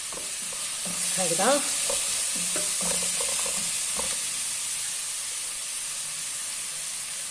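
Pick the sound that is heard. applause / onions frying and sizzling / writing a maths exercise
onions frying and sizzling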